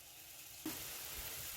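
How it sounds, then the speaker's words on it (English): Fifteen garlic cloves dropped into a hot pan for Korean samgyeopsal, setting off a sudden steady sizzle that carries on close and moderately loud. "Now we're going to add 15 cloves of garlic."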